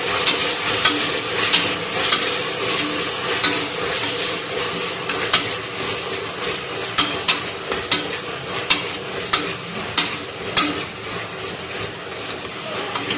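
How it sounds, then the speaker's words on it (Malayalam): Tomato and onion sauté in a pan for a chicken curry, a loud, continuous sizzle broken by repeated scraping knocks of a spoon stirring, growing more rhythmic toward the end. "അപ്പോൾ തക്കാളിയും കൂടി ഇട്ടിട്ട് നന്നായി വഴറ്റുക."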